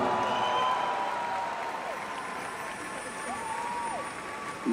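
Applause fills a live concert hall in Texas, a steady wash of clapping from a large crowd with an amplified announcer's voice over it.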